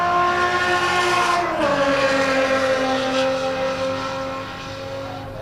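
A Toyota Supra race car at Buttonwillow passes on track, its tonal engine whine dropping in pitch as it goes by, then fading steadily into the distance.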